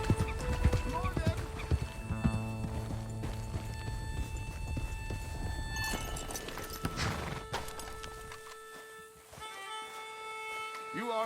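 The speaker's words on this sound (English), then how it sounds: "No, but I can ride a horse." A horse in the game Red Dead Redemption 2 clip-clops along at pace and neighs loudly, hoofbeats rhythmic and close, with people talking over the riding.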